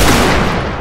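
Musket volley from a line of infantry in a Napoleonic Wars video game battle between Prussia and Austria, one loud, close crackling blast that fades into a rumbling tail within a second.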